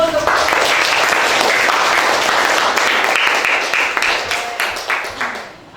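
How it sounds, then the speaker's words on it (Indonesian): Classroom applause from a group of students, loud and sustained for several seconds with dense overlapping claps before tapering off at the end, a voice briefly mixed in. "Oke, kita beri aplaus dulu untuk"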